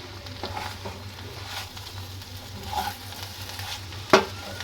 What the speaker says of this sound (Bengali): চিনিটা দিয়ে আমি নাড়াচাড়া দিয়ে নিচ্ছি